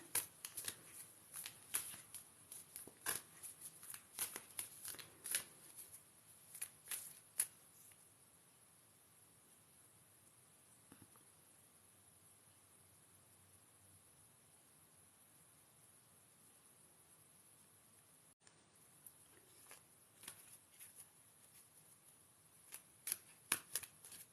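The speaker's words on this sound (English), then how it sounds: "let's shuffle the moon card for Kerry Ann." Tarot cards being shuffled in quick riffling bursts at first, then a long quiet stretch of faint handling, with a few more shuffles near the end.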